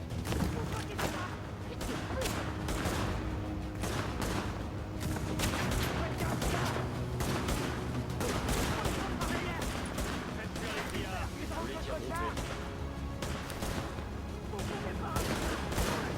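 Rapid gunfire from the video game The Division, dense bursts of shots running almost without a break, with a voice speaking under them.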